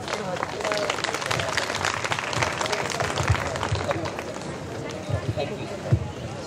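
An audience at a felicitation event held by a Jayanti celebration committee claps steadily in a dense, continuous patter of many hands. The applause stays fairly loud throughout with crowd murmur underneath.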